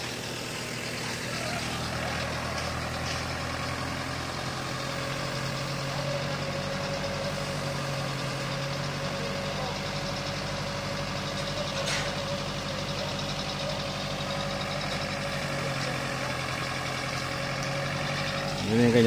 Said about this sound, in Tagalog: Yun yung kanyang dump truck.